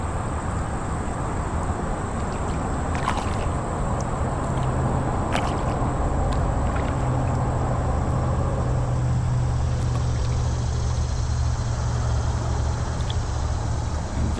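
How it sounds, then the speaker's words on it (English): Traffic on Route 29 across Lake Culpeper, a constant broad rumble of distant cars, with a steadier low engine drone building in the second half. "You can really hear the cars over there on Route 29 now."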